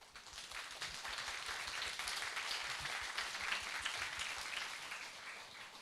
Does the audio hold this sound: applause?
yes